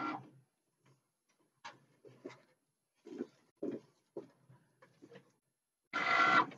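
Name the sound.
Cricut cutting machine running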